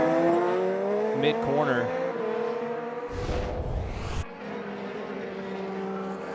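An IndyCar race car at Laguna Seca practice spinning and overcorrecting, its engine note sweeping up and down, then a loud broadband burst of sliding and tire noise into the tire barrier, all beneath steady commentary.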